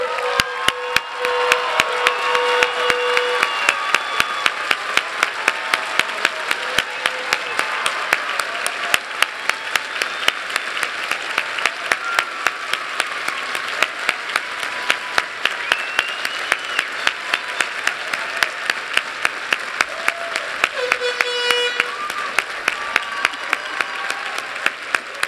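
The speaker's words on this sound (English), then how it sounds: "Will all veterans present please stand in place so that we may applaud your service" Commencement audience applauding standing veterans, a long, steady round of many hands clapping with a faint rhythmic beat running through it, and scattered voices and a few whistles mixed in.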